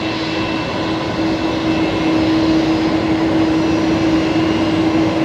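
An Emirates airliner pushing back at Brisbane Airport gives off a loud, steady jet-engine drone with a sustained whine running throughout.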